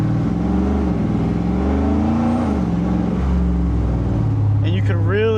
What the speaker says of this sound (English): And you can really hear that exhaust so much more.